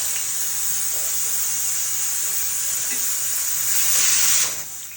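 Ingredients for pani puri frying in a pan, a constant close sizzle with light stirring that swells briefly louder toward the end before easing off.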